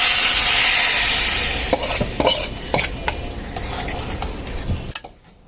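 Lentils go into a pan of garlic fried to a deep reddish-brown for a jute-leaf dal, raising a loud steady sizzle, with scattered clinks and scrapes of a stirring spoon that fade toward a quiet end.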